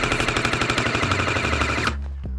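An electric gel blaster fires on fully automatic, a fast steady stream of close, loud mechanical shots for about two seconds before stopping abruptly, with no voices.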